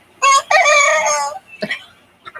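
A young rooster crows, a strained, cracking cock-a-doodle-doo that breaks off early, followed by a few short clucks, close and loud.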